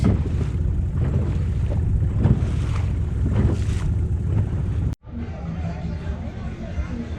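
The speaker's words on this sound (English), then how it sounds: "here's one boat that's part of the regatta testing it out" A sailboat in a regatta moving across open water with steady wind and wave noise, broadband and continuous, with voices talking faintly underneath.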